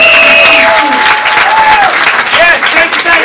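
Steady applause from a theatre audience before a program of one-act plays, loud and continuous clapping filling the room, with whistles and cheering voices rising over it.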